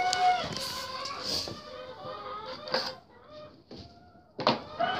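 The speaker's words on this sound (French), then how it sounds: "je vais aller ouvrir au coq" Chickens cluck and a rooster calls in a henhouse, a mix of nearby squawks and clucks with several louder bursts, including a sharp cry near the end.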